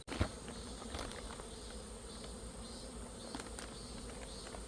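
Black-backed hornets buzzing close by, a continuous droning hum with faint higher whines, steady throughout with no voices.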